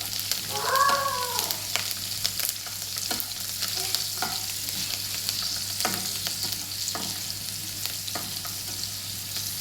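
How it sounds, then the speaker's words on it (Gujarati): Ginger sautéing in a pan, with continuous close sizzling broken by repeated sharp scraping and tapping of a spoon stirring, plus a brief squeaky chirp near the start. "એમાં નાખશું આપણે આદા, સરસ મજાની સાંકળી લેવાની."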